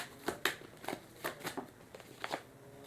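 Tarot cards being shuffled in a series of quiet, crisp riffling bursts, each a short papery flutter, spaced irregularly about half a second apart with no talking.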